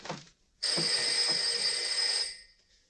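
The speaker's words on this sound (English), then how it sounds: "The phone is ringing." A telephone rings with a single long electronic trill that holds for about two seconds and then stops, loud and close in a quiet room, after a faint short sound.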